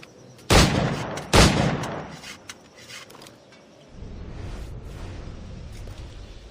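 Two loud, sharp gunshots from a firearm crack about a second apart, each a sudden blast, followed by a quieter, rumbling background that swells slightly near the end.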